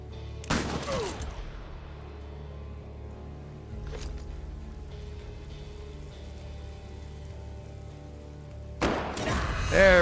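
A sniper rifle fires in the video game SERUM, a sharp loud crack with a burst of noise near the start, followed by quieter ambience, a short thud midway and another loud burst at the end.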